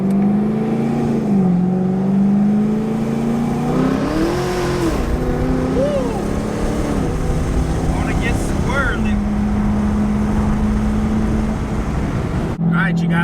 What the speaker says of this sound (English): But it's not rough, it's idling just fine.